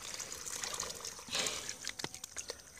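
A small spring's water trickles and dribbles steadily at close range, with soft splashing bursts and a few brighter drips toward the end, no voices present.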